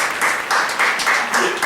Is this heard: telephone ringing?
no